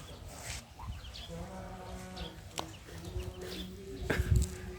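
A hen and her chicks close by in a farmyard, with short clucks and thin peeping calls scattered over a quiet background.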